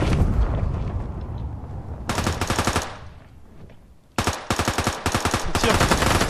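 Automatic weapon fire in the shooter game Ring of Elysium: two rapid bursts of sharp, close shots, the second longer and broken into several quick strings, following a rumbling stretch of game ambience.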